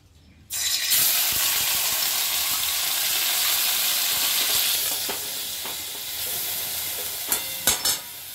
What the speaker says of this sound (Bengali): এটা গরম হয়ে গেছে, এবারে আমি চিকেনগুলো দিয়ে দেব।